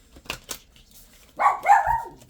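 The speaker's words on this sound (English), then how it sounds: "That's my dog saying hey." A pet dog gives a short, close bark indoors, a single brief yelp after a few faint taps and rustles, with nothing else heard around it.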